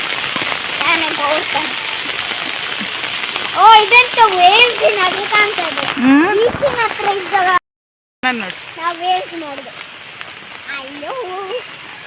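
Rain patters steadily on a surface beneath close, animated talking voices, interrupted by a sudden short silence partway through.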